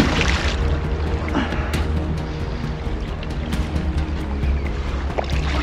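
A packraft (Itiwit Packraft 500 Adventure) paddled upstream against the current on the Agger river: steady broadband water rush with repeated paddle splashes and strokes, close and fairly loud, no talk.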